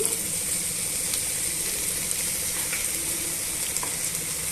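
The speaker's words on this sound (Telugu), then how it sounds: "బెండకాయలన్నీ కూడా జిగురు లేకుండా వేయించేసుకోవాలండి" Cut okra (bhindi) pieces frying in a pan make a steady, even sizzle with faint scraping and clicking underneath, holding one level for the whole stretch with no one speaking.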